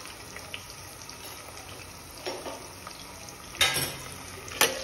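Chopped onion with a pinch of salt cooking in a pan for Khandeshi khichdi, a steady soft sizzle with a few louder stirring scrapes near the end.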